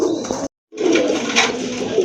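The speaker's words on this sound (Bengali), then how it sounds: "আরেক জোড়া কবুতর দেখতে পাচ্ছেন" A pair of Rajgolla pigeons, one sky-blue with a crested head, coo softly and close by in a short burst, broken by a brief silence before the cooing resumes.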